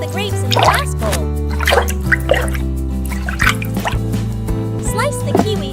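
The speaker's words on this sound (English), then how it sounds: "Wash the grapes in the glass bowl." Grapes are swished and washed in water in a small glass bowl, giving repeated wet drips, splashes and liquid sloshes over a steady tonal music bed.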